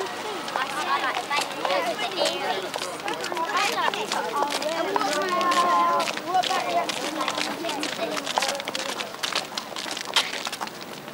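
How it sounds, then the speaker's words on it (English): Footsteps run and patter on a hard surface in a busy, brisk rhythm of many quick steps, with bird-like calls and other voices mixed in around them. "And more footsteps."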